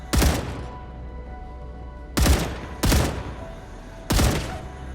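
Gunfire in a video game with alien spelunking and airborne cargo: four sharp, loud shots ring out at uneven intervals, each with a brief decaying tail, standing alone without talk.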